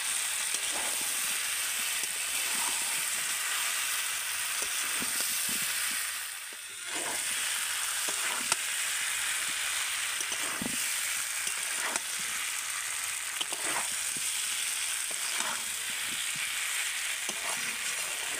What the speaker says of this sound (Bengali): এঁচোড় আর আলুটা দিয়ে কিন্তু মশলার সাথে আরও একটু ভালো করে কষিয়ে নিতে হবে